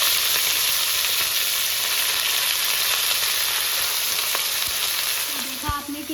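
Chicken pieces sizzle and fry with golden-browned garlic in a hot pan, a steady dense crackling hiss throughout with occasional stirring clatter near the end; no talking.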